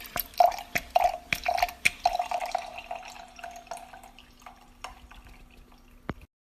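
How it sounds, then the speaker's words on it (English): Wine dispensed from a needle-type wine preserver into a glass, heard as a series of sharp clicks and short spurts of trickling liquid, close and quiet, tapering off near the end. "and then it pours some wine."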